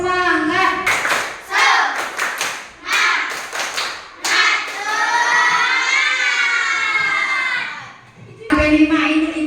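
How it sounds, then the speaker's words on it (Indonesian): A class of children performs the tepuk semangat clapping chant, shouting and singing in unison with rhythmic bursts of claps, loud and close, with a teacher's voice among them. "Tepuk semangat"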